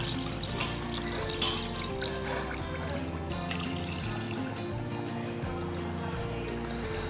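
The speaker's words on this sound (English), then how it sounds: "Now I'm going to put some water into this" Water, about a liter, pours into a Thermomix bowl, a continuous close splashing and trickling stream running steadily throughout, with a low hum beneath.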